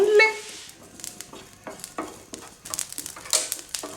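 Whole cumin seeds and whole coriander dry roasting in a pan, with light crackling, scraping stirs and occasional clinks of a spoon against the metal, close by.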